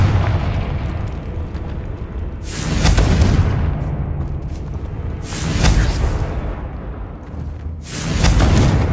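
Three loud blasting-curse explosions from the Confringo spell in the Hogwarts Legacy game, each a broad booming burst roughly every two and a half seconds over a steady rumbling background.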